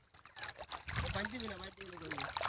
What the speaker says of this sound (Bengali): মাটি ধুয়ে যাচ্ছে তো এখান দেখুন জল আসছে কত সুন্দর জলের গতিবিধি